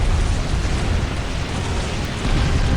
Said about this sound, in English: A lot of fire going on. Heavy weapons on the field.